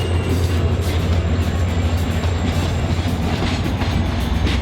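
A Grand Canyon Railway passenger train rumbles steadily along the rails with a constant low drone and faint rhythmic clatter, heard from close by on board.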